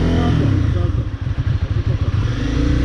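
A Honda CBR250 motorcycle engine idles in first gear, rolling slowly with no throttle, giving a steady, close, low rumble with light mechanical clatter throughout.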